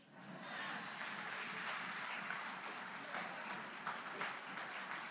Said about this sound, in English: Applause line.